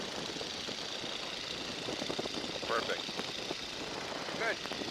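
A Stearman biplane's engine drones steadily in flight on approach to a runway, a continuous rough hum that holds the same level throughout the few seconds.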